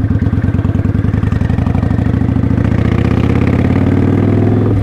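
Motorcycle engine running steadily with clutch and throttle control during slow practice riding, a rhythmic mid-pitched thrum that rises slightly as the throttle opens, loud and close with no talking.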